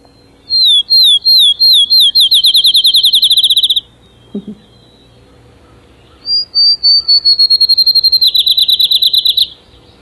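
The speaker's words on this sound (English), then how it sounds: "this is one that will come closer to you and it has a nice loud call for such a little bird" A small sparrow gives a loud call as rapid repeated whistled trills in two long bursts, with a brief low thump between them and little else in the background.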